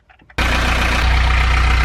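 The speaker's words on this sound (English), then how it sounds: "I've just started the engine" A narrowboat's engine catches abruptly after a few soft murmurs and settles at once into a loud, steady, close-up idle with a deep low-end rumble.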